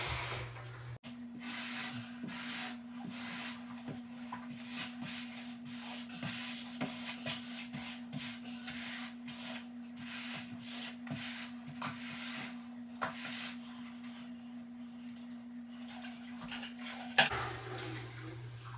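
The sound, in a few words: scraping grout off floor tiles at an angle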